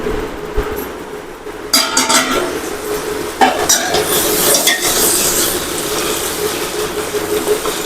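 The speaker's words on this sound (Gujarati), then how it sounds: "આપણે આવી રીતે થોડી થોડી વારે હલાવતા રહેશું" A spatula scrapes and clatters against a metal pan while green onion curry is stirred, with close, loud rhythmic scraping and clinking over a soft sizzle.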